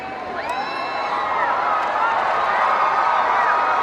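A large crowd cheers and whoops during the Queen's Diamond Jubilee visit in Yorkshire, a continuous open-air roar with scattered shrill whistles and voices, steady and moderately distant.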